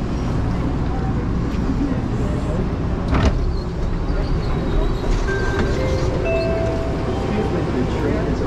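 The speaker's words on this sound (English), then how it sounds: "The train is approaching Terminal C." Airport terminal people-mover train at Houston IAH pulling into Terminal C, a steady rumbling ride noise with a clunk midway and faint tonal whines, fairly loud and constant.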